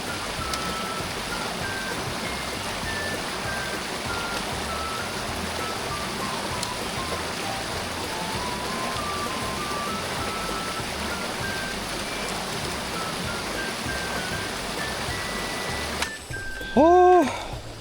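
A mountain stream flows through Sanasa valley in Yangpyeong, Gyeonggi-do, with a constant, even rush of water. A brief voice comes in near the end.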